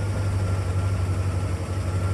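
A stock 1984 Corvette with a Cross-Fire Injection engine idles steadily after a cold start, a constant low hum with a smooth, even drone at close range and no talking.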